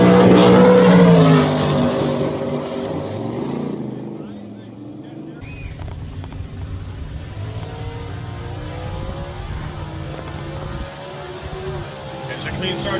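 Drag race launch between a Dart and a Trans Am: a loud engine roar at the start quickly fades into steady distant motor rumble and crowd ambience, with an announcer talking over it.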